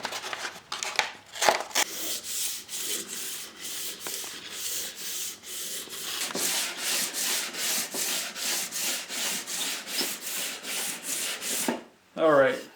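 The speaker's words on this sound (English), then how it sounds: "that finishes the sanding with the 220 grit" An orbital sander with 220-grit paper smooths wood, a steady close whir with a rhythmic rubbing pulse running for most of the span, then a brief pause and a short final burst.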